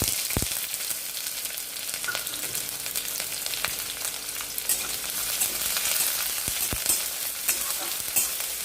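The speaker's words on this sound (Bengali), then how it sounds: "পেঁয়াজটাকে ভালো করে ভেজে নেব।" Onion and cumin seeds frying in a hot kadai give a steady, close sizzle throughout, with occasional sharp crackles and pops and no talk.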